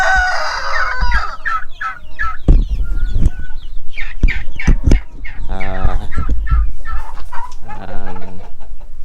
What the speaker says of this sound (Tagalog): Ito naman, mga pabo.